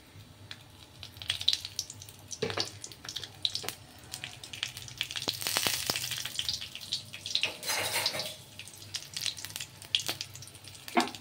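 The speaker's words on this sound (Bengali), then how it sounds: "ফোড়নে দেব গোটা জিরে, শুকনো লঙ্কা, তেজপাতা আর একটু গোটা গরম মশলা।" Whole cumin, dried chillies, bay leaf and whole garam masala hit hot oil for tempering, crackling and sizzling in irregular bursts close by, with some watery splashing in between.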